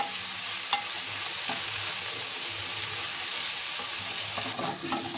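Spiced masala sizzles in a pan as it finishes frying for an egg korma, with a constant hiss and occasional scraping strokes and taps as the mixture is stirred, heard close with no voices.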